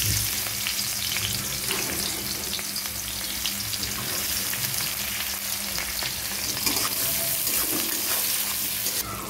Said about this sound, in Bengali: পেঁয়াজটা একটু লাল লাল ভাজা হয়ে গেছে